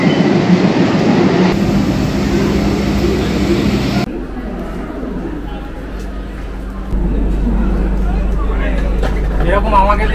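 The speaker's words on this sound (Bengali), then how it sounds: "এই যে ট্রেন ঢোকাচ্ছে।" Doon Express arriving at a Howrah station platform, a steady rumbling train roar with low hum, dropping briefly then swelling again as the carriages roll in amid crowd noise and voices.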